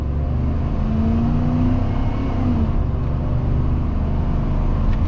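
A 1994 Dodge Ram 1500 Laramie SLT pickup truck engine roars at full throttle during a 0-60 run, loud and steady, its pitch rising as it accelerates hard, with no talking.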